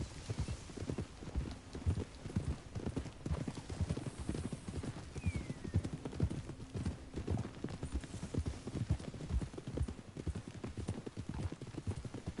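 Horse hooves clip-clop steadily along a trail in Red Dead Redemption, a continuous rhythmic patter close by with a brief whinny, low voices talking underneath.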